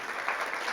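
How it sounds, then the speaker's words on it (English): Audience applause filling a hall during an evening program at the Commonwealth Club of California, a steady wash of many hands clapping at moderate level with no pauses. "Just give another round of applause, not just for the performances, but for this space tonight"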